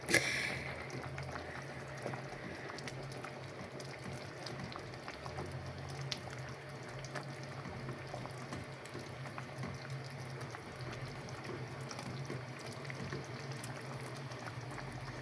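A covered pot of basmati rice pilaf bubbles and simmers in a soft, continuous patter, with a brief knock at the start and no speech.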